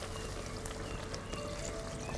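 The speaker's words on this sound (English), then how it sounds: "So I need to add some water to it" Reserved pumpkin cooking water poured into a thick pumpkin soup in a home kitchen, a soft, steady, faint pouring wash throughout with no talking.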